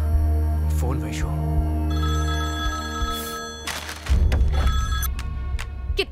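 A telephone rings in a dramatic film scene. The bell chimes repeat in short bursts while voices talk over and around them.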